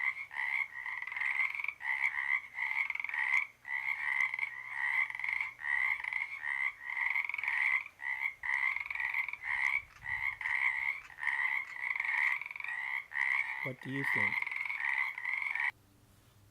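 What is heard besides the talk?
male frog gurgling croaks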